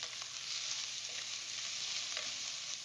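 Ingredients for amatriciana browning in olive oil over high heat in a high-sided pan, giving a steady, dense hiss of frying that holds for the whole clip, with a few faint utensil taps and no talk.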